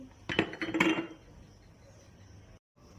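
Teacups clinking as two cups of tea are set down, a short cluster of bright porcelain chinks close by, then quiet room tone.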